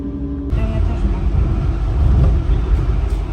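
Heavy road traffic in a jam with many cars: a loud, close, continuous low engine rumble and road noise that swells slightly midway, with a faint voice at the start.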